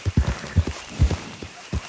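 Horse galloping in Red Dead Redemption 2 while ridden, with close, heavy hoofbeats thudding in uneven clusters of two and three across a couple of seconds.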